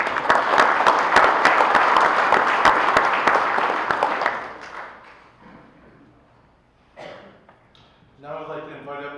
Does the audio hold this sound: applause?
yes